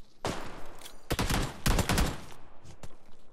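A burst of rapid gunfire from PUBG Lite, several loud close shots in quick succession for about two seconds, then a couple of fainter isolated shots, with no voices.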